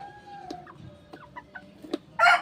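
Chickens cluck in short, scattered calls, with a steady high whine in the background, ending in a sudden loud burst of noise.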